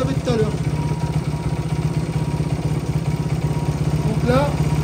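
A tuned Xduro 160 motorcycle's carburetted engine idles steadily close by, with a continuous low throbbing rumble, and a couple of brief revving rises around the start and end.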